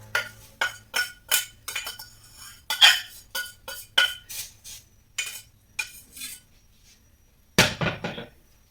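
Roasted corn chivda being stirred and tossed with masala in a pan, a steady run of sharp clinks and scrapes of spoon on metal, close and clear, ending with a louder rattle.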